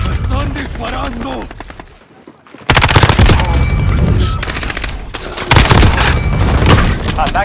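Heavy video game gunfire crackles in dense bursts across a Spanish-language match, with a brief lull before loud rapid shots and booms resume; voices shout over it.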